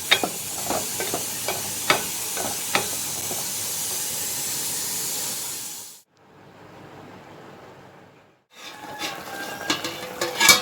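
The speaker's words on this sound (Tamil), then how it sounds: "இப்போ புளித்தண்ணி நல்லா கொதிச்சுக்கிட்டு இருக்கு." A pot of tamarind water for sambar simmers with a steady hiss and bubbling, cut off briefly before a burst of louder sizzling and bubbling resumes.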